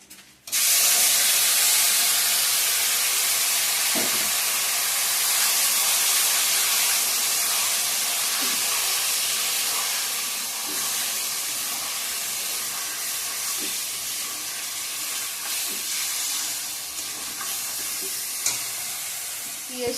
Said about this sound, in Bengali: এখন চিকেনটা দিয়ে দেব অ্যাড করে।